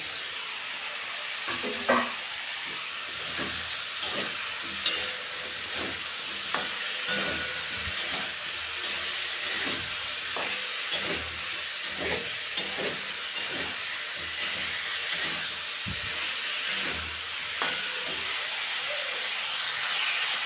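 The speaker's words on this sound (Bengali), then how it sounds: "ফুলকপি আলু কষানো হয়ে গেছে" Cauliflower and potato fry in oil spiced with ground dried chilli and cumin paste, a constant sizzle broken by regular, roughly once-a-second scrapes and knocks of a stirring spoon against the pan.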